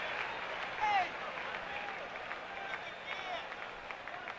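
A partisan baseball stadium crowd at the 1977 MLB All-Star Game in New York cheers and claps from a distance, a broad steady roar with scattered claps under a broadcaster's commentary.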